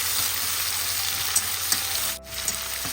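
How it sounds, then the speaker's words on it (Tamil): Onions sizzle and hiss steadily in hot oil with cardamom, cloves, cinnamon and curry leaves for kothu parotta, with soft spatula scrapes and a brief clack of stirring close by. "அப்படி வெங்காயம் வதங்கட்டும்"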